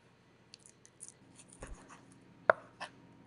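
A knife slicing partly frozen reindeer meat thin on a board, giving soft scraping strokes and several light taps, with one sharp close knock near the end, all fairly faint and with no talk.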